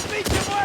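One gunshot in a post-apocalyptic survival shooter pops briefly at moderate loudness against a dull background hum, with no other shots around it.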